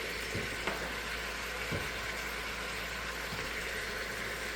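Beef stew in a pot is stirred after pepper goes in, a dense continuous sizzle and bubbling with a few soft spoon knocks, close up and without talk.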